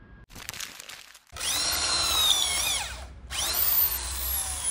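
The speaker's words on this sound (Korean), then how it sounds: "현수막용 나무에 구멍을 뚫고 있어요. 이렇게 드릴을 하고 있을 땐" A handheld power drill boring holes through wood for mounting a printing shop's banner, two long sustained whining runs broken by a short pause, close and loud, with a softer scraping rustle before the first run.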